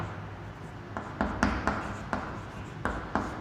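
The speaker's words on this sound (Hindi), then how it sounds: "यहाँ पे लिखेंगे" Chalk or marker writing on a classroom board during a geometry lesson on circles gives a quick series of about eight distinct scratchy strokes, close and fairly loud.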